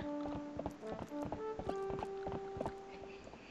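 Horse hooves from The Legend of Zelda: Twilight Princess clip-clop in a quick, galloping rhythm, mixed with sustained musical tones in the game's audio, fairly faint and steady.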